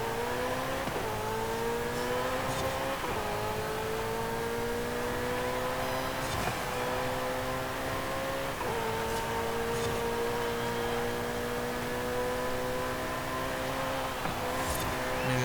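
Ferrari SF90 engine in Forza Horizon 5 revving hard through repeated upshifts during a Rivals lap, each gear climbing in pitch before dropping, a loud continuous roar with no talk.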